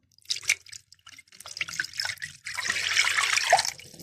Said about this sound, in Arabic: بنزل باللبن الأول في الحلة